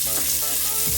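Bacon lardons render their fat in a pan, giving off a dense, continuous close-up sizzle with no pauses or talking.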